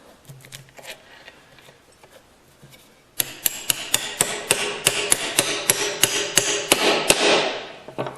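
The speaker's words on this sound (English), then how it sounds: "So I've got the bolt pounded all the way through" A bolt is pounded through timber with a hammer on a crosscut saw filing bench, a quiet stretch giving way to a steady run of about fifteen sharp, ringing hammer strikes close by, with no talk.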